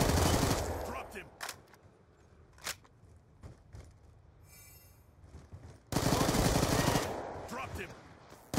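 Automatic gunfire from Call of Duty Black Ops 2 rattles in loud rapid bursts at the start and again near the end, with quieter scattered game sounds between them.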